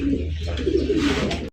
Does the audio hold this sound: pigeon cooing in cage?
yes